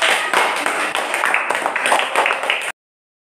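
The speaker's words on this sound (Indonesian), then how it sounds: "Oke, tepuk tangan" A group in a classroom claps hands for a presenter, a brief dense round of claps heard close that cuts off abruptly into silence.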